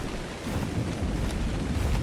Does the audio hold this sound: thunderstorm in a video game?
yes